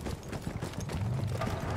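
Steady clip-clop of horse hooves at a trotting rhythm in Battlefield 1, fairly quiet, with faint game ambience behind it.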